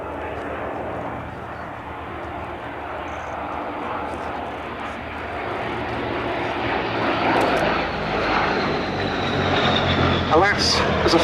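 A Gloster Gladiator biplane flies at the Duxford Battle of Britain Airshow. Its piston engine drones steadily and grows slightly louder toward the end, under a commentator's speech.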